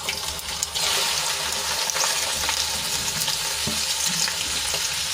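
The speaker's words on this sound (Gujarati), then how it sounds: "હિંગ ઉમેર્યા બાદ આપણે ભીંડાની એડ કરી દઈશું" Okra sizzling loudly as it hits hot oil already seasoned with crackled mustard seeds and asafoetida for a Gujarati okra curry, a dense steady frying hiss throughout with faint stirring scrapes, close by and without talk.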